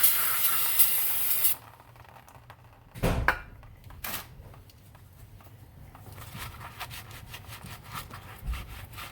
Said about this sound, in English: Let's clean them all with some brake cleaner.